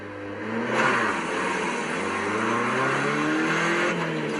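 Race cars at the Bathurst Speed Weekend rev up, engines rising and falling in pitch with a few loud throttle blips over a steady mechanical drone, fairly close, with no talking.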